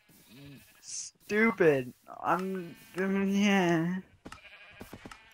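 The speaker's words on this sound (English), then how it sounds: "The sheep are in the way." Sheep in the Minecraft video game bleat several times in close succession, loud and near, with one long wavering bleat; a person briefly speaks near the end.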